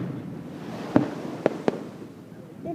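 Fourth of July fireworks over Hilo Bay, launched from a boat, pop as three distant, sharp booms spaced unevenly over a steady crowd murmur.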